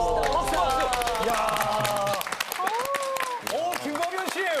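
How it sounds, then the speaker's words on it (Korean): Applause from a Korean TV talk show's studio audience, bursts of clapping mixed with crowd noise and overlapping excited voices and exclamations from the hosts. "박수, 박수!"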